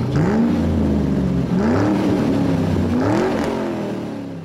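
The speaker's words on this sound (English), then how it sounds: "And engines roar to life here at the paperclip." Stock car engines at Martinsville Speedway, a NASCAR short track, fire up and rev together: a continuous loud engine roar with rising and falling pitch sweeps, sustained throughout and easing slightly at the end.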